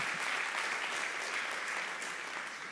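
A church congregation at a Wednesday evening service gives a steady round of applause, a dense, even wash of many hands clapping at moderate volume for the whole stretch, without speech.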